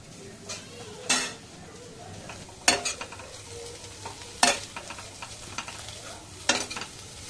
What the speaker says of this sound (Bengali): পোহা বানাচ্ছি, আমি আর মা খাবো।